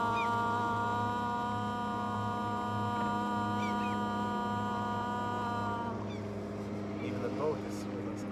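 A deep, steady horn drones for several seconds, rich in harmonics, then fades, with faint bird calls and voices in the background.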